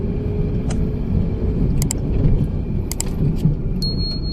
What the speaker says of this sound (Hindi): ये देखिए, फर्स्ट गियर पे मेरी गाड़ी आराम से चल रही है